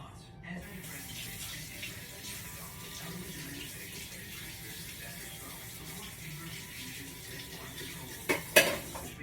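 Running tap water splashes into a kitchen sink as a spoon is rinsed, with a steady wash of flow, a few light metallic clinks and a brief louder clatter near the end.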